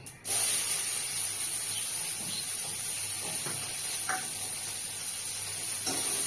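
Chopped onion frying in hot oil for a Bengali potol posto dish, giving a loud, steady, close hiss that begins abruptly and continues unbroken throughout, with a few faint clinks over it.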